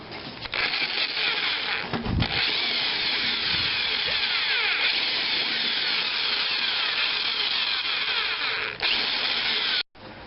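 A power drill bores a hole through part of a torchiere floor lamp clamped down for repair, a loud, continuous whining grind that runs almost unbroken, with brief dips near the start and a sudden stop near the end.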